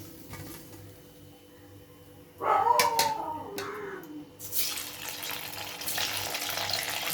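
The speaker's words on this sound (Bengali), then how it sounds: "এই দেখো এমন করে ভেজে নিচ্ছি, ঠিক আছে? এমন করে লাল লাল করে ভেজে নিতে হবে।" Pieces of cabbage paneer fry in oil until reddish; a soft hiss builds into a loud, steady sizzle in the second half, after a brief whining tone near the start.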